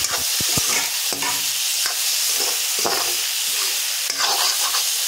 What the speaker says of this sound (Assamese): এতিয়া মই এনেকৈ কাটি ৰখা কণীখিনি তাতে মিলাই দিছোঁ